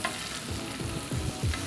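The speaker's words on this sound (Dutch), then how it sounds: "In de pan, waar nu de spek in ligt te bakken" Bacon sizzling and frying in a pan for a chicken club sandwich, a steady close crackle with a few louder stirring pops, no talk.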